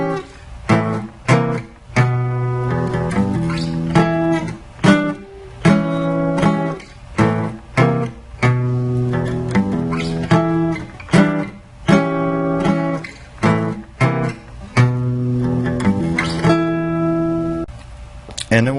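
Electric guitar plays a song's solo at a slow practice tempo, with distinct picked notes and short phrases separated by brief gaps, close and clear with no voice.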